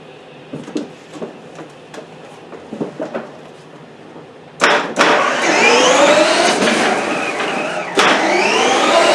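A Power Wheels ride-on car upgraded with a DeWalt battery starts its test drive: faint handling clicks, then a sudden loud electric motor whine with gear noise that runs steadily and jumps again near the end.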